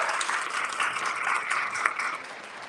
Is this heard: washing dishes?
no